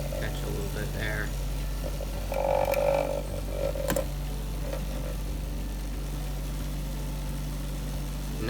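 A cotton candy machine spins melted hard candy with a steady, low mechanical hum, joined by a few brief scraping sounds and a faint voice in the background.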